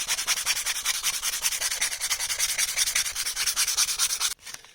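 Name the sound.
sanding a wooden butter knife by hand with sandpaper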